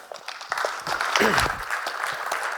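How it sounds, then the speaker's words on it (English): Audience applause after a startup talk with questions, a steady crowd clapping that swells from about half a second and holds fairly loud, with a voice speaking over it partway through. "Big round of applause."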